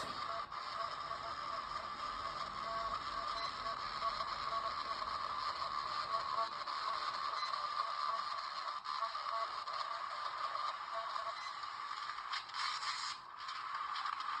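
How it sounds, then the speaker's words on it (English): A small police citation printer whirs and scrapes steadily for a long stretch, a continuous mechanical buzz that ends with a brief rustle. "There it's printing out"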